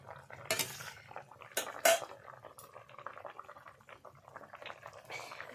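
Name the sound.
pouring the mango-powder snakehead fish sour curry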